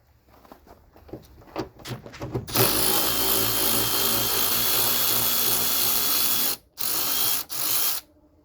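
A quick powered ratchet loosens fasteners on a Jeep Grand Cherokee lift gate, with a few clicks and bursts at first, then a loud, sustained whirring run broken by two short pauses.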